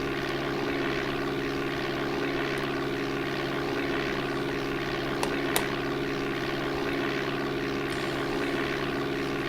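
Steady droning propeller engine of a light aircraft in the DOS game Flight Simulator 4, a constant buzzing hum with unchanging pitch throughout, no talking.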